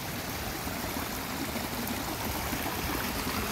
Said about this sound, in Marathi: छान आवाज येतो आहे पाण्याचा